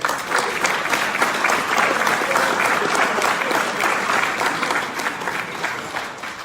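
An audience bursts into sustained applause at a public speaking event, loud dense clapping filling the room steadily before tapering slightly at the end.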